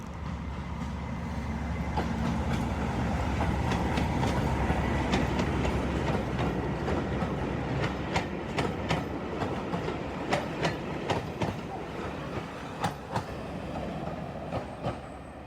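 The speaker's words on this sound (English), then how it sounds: "Seemed to be some sort of shunting." A heritage train shunts at a station on the Wensleydale line, with rail noise and wheel clicks rolling steadily under a dense rumble, punctuated by sharp metallic clacks throughout.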